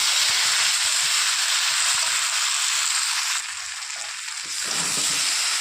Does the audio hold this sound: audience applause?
no